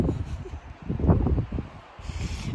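Wind blowing at a mountain campsite, a steady rough rushing and buffeting close to the microphone, rising and falling in gusts, with no talk.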